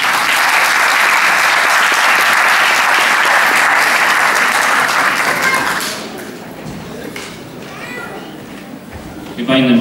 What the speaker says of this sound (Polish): Zapraszam na scenę. Były czesni brawa dla niej.